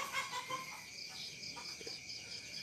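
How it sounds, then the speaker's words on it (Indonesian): A chicken clucks faintly in the distance, a few soft calls over a steady background of chirping crickets and insects. "Ada ayam."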